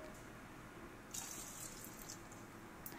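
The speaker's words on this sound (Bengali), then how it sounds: "একটা বড় বাটিতে নিয়ে নিলাম আর তাতে দিয়ে দিলাম দেড় বাটি মতো জল" Water poured into a large bowl holding jowar millet for soaking: a faint, steady trickling stream from a close source that grows a little stronger partway through, over a quiet background with no speech.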